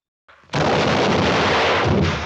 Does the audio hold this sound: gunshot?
yes